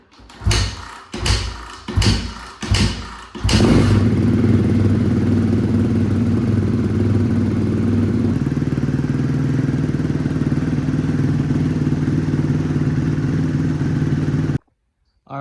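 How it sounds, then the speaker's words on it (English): A 2023 Suzuki RM-Z250 dirt bike starts after a few sharp kick attempts, then settles into a steady, loud, close idle that runs for about eleven seconds before cutting out abruptly. "so we got the bike all warmed up. I like to start it, let it run for a couple minutes."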